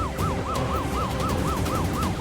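A police car siren in an Indian TV drama scene wails in fast, repeating up-and-down yelps, loud and continuous over a rumbling background.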